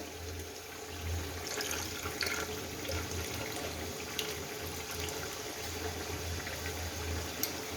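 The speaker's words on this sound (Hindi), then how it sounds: "ऊपर से हम पानी डाल देंगे और पत्थर नीचे बैठ जाएगा" Water trickles and splashes steadily onto a bowl of black salt that contains bits of stone, set against a constant low hum, at close range with no voices.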